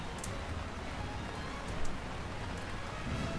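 Steady rain falls throughout, a dense, even hiss of drops with a brief swell midway and no talking.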